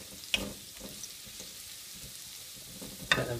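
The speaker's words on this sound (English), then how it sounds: "Let them frying away." Food frying in a pan while a Madras curry is cooked takeaway-style, a soft steady sizzle and crackle with a couple of sharper utensil clinks, fairly quiet and close, without talking.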